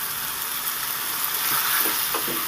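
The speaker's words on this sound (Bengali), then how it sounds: "কাজু বাটাটা দিয়ে আমি দু মিনিট ভালো করে ভেজে নেব" Ridge gourd with onion, poppy seed and cashew paste fries in a pan, giving a steady, even sizzle with faint stirring scrapes toward the end.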